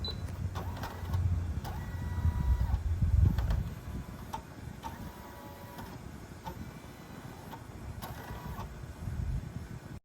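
A Brother Skitch PP1 embroidery machine runs a test pass on a hat, with a quiet whirring motor, rhythmic mechanical ticking and clicks, and a brief louder hum early on.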